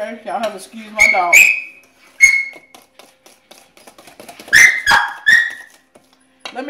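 A dog in a home kitchen during baking gives several short, high whining cries separated by pauses, with light clinks of dishes and utensils around it.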